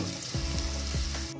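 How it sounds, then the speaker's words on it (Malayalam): Onions sauté in a pan for chicken biryani with a dense, close sizzle, and a spatula scrapes through them a couple of times. "സവോളയൊന്ന് ഗോൾഡൻ നിറമാകുന്നത് വരെ നമുക്കിതൊന്ന് വഴറ്റി കൊടുക്കാം."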